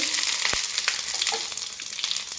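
Dried red chili pieces and tempering spices frying in hot oil for a black gram chutney, a steady close hiss of sizzling with a few sharp pops and light stirring scrapes.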